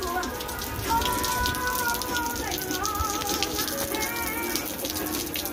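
Rain pours during a thunderstorm, falling on a road outside. It is a dense, steady hiss of drops close to the microphone throughout, with no distinct thunder and no talking.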